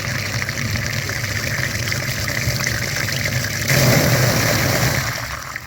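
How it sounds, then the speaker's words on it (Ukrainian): Water flushing through the dirty front radiator of a Skoda Octavia A5 1.9 TDI, a steady loud gushing rush over a running engine or pump hum that swells louder partway through. "Миємо передній радіатор."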